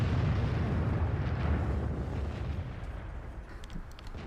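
Artillery fire in a tank battle video game replay: a loud, rumbling explosion wash dominates the opening, then slowly decays into a lingering low roar with a few faint crackles near the end.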